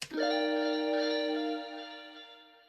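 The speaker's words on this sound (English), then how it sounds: "So the guitar accent sounds like this." Sustained guitar accent chord from a soul loop, soaked in spring reverb, chorus and delay, ringing out alone after a sharp attack and slowly fading.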